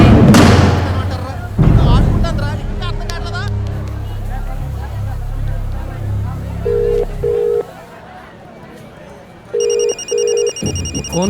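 A phone left behind rings in a tense film scene, its electronic ring tone sounding in short repeated bursts near the end, after heavy low rumbling and thuds with background voices.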